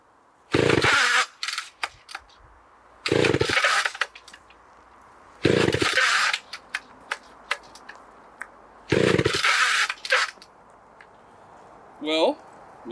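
A used chainsaw with its choke left in, revving hard in four loud bursts and dropping back to a rough, uneven high idle in between, with a voice briefly heard near the end.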